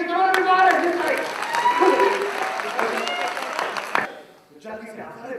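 An audience claps for a motivational speaker at a gathering of LIC insurance agents, a steady burst of applause with crowd noise that fades near the end, then resumes more faintly.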